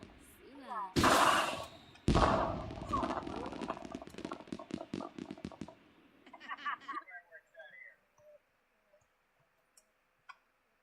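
Fireworks going off in The Sims 4 video game: two loud bursts followed by a rapid crackling string of pops that thins out into scattered faint snaps, with some whistling tones late on.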